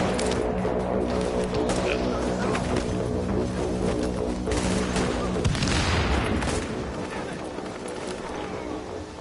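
Sniper rifle shots and other gunfire ring out in a PS4 shooter, crackling continuously through a dense mix of game sound and a voice talking over it.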